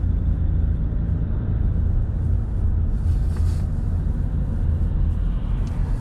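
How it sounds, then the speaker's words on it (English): Road traffic moving around a roundabout on a driving test route, heard as a steady low rumble of engines and tyres from inside a car, continuous and even, with no talking. "The traffic's moving now."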